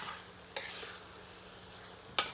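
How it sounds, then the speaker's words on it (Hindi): Ladle stirring mashed kundru masala in a pan over medium heat, a quiet low simmer with two sharp scrapes of the ladle against the pan. "आंच को मध्यम कर लेते हैं और करछी चलाते रहते हैं"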